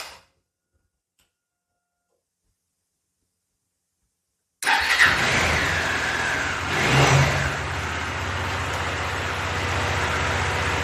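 After several seconds of silence, a Bajaj Dominar 400 motorcycle engine abruptly turns over and catches, settling into a steady idle with a brief rev.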